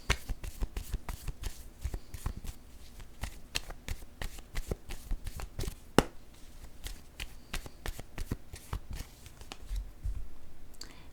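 A deck of tarot cards is shuffled close up, with rapid flicking riffles and soft slaps repeating in uneven bursts, with no talking.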